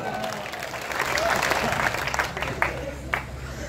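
A crowd at a comedy and poetry stage event in Muradnagar gives a warm round of applause, steady and full for several seconds before tapering to scattered claps, with some voices mixed in.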